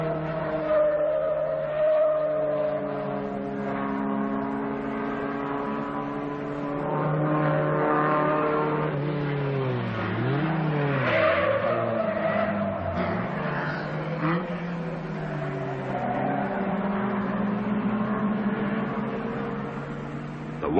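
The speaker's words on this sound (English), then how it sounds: "The Dacia down below is driven by Romanian Ilya Oceanu" Saab and Dacia rally cars at the 1978 Danube Rally in Romania climb a winding road, engines droning and revving steadily with rising and falling pitch as they accelerate through the bends, heard from a moderate distance.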